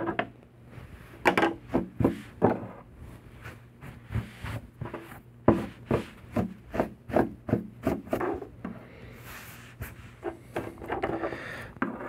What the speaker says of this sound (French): Avec mes ciseaux, je vais tout simplement aller juste égaliser.